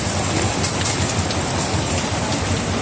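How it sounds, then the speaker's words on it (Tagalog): Dense, steady downpour of heavy typhoon rain pattering loudly on a nearby tricycle, heard from inside it, continuous and unbroken throughout. "Grabe guys, inabot kami ng ulan."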